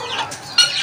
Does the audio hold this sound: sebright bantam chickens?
yes